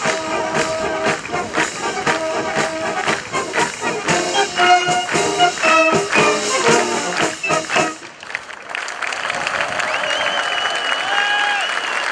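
An audience claps at a brass band show, loud sustained applause that fades after several seconds as band music and other sound take over.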